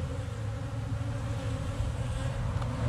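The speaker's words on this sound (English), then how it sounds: "we'll just shake all the rest of these bees off" Honeybees buzzing in a steady, dense drone as they are shaken off a hive frame during a nuc transfer into a hive, close and continuous with no talk.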